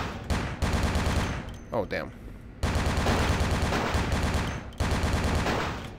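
Loud bursts of rapid automatic gunfire from a newly acquired weapon in the video game Vampire: the Masquerade - Bloodlines, dense repeated volleys broken by a short pause, with a brief exclamation from a player between them.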